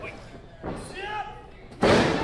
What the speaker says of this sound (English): Scoop slam.